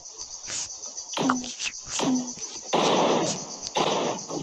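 Video game gunfire cracks in short bursts, some single shots and some rapid strings, at moderate volume over a faint, steady game background hum.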